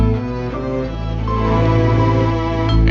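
A short stretch of a beat built entirely from Yamaha Motif keyboard sounds: layered sustained synth tones over a deep bass, playing continuously at steady volume.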